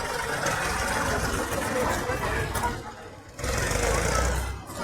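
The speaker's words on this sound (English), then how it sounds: "We're following the tractor." A tractor's engine runs ahead of a protest procession in Lochaber, giving a steady mid-distance drone with rumbling and brief gaps.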